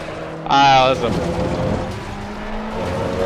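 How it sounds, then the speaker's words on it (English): In a racing video game set at Misano, a race car drifts with a sharp, loud tire squeal that lasts about half a second. The engine then keeps droning steadily underneath while the car slides on. "Drifting all over the place."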